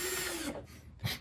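A power drill drives screws while a power washer hose guide is being repaired, giving a brief whirring buzz followed by a short second burst, close and fairly quiet.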